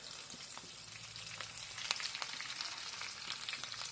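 Curry leaves tossed into hot oil for a semolina-coated fish curry: a steady, soft sizzle with small pops and crackles, fairly quiet and continuous, with no voices.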